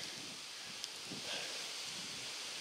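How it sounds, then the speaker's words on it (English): Soft, steady wind blowing outdoors at a tent in the Grayson Highlands, Virginia, with faint rustling and low buffeting, quiet and continuous throughout. "It's still windy."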